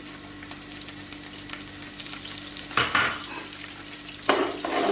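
Ginger and garlic fry in oil in a pot with already-browned onions, a constant soft sizzle broken by two bursts of scraping stirs against the pot.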